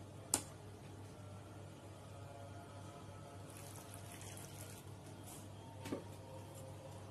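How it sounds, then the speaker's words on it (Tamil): Water poured steadily into besan dhokla batter with salt, a soft continuous stream throughout, faint, with a sharp click near the start and another near the end. "இப்போ இது கூட நம்ம வாட்டர் ஆட் பண்ணிக்கலாம்."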